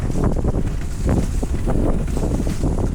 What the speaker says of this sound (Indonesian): Dan juga sekarang angin kencang.